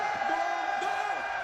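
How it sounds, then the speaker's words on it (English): A large esports crowd at a Dota 2 Major in Paris chants and cheers for the player Miracle late at night, a steady roar of many voices filling a big arena, with sustained shouted tones rising and falling. "The call of Miracle being echoed here by this beautiful crowd late into the night."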